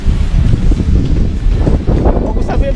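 Strong wind buffeting the microphone on a high ridge at Tagaytay's People's Park in the Sky, a loud, continuous low roar with gusty surges and faint voices in the background.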